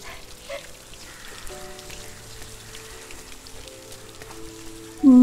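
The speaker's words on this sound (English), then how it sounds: "here it's raining a lot, I can't see much" Steady rain pattering in the video game Rime, a soft continuous wash of drops with faint tonal music underneath, ending in a sudden louder burst.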